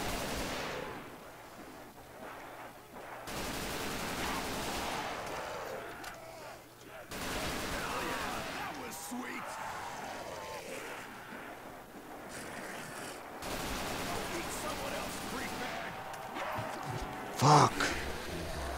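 XM8 rifle gunfire in a gun game video game match, bursts of rapid automatic shots in layered volleys with mechanical clicks, fairly faint, under occasional talk.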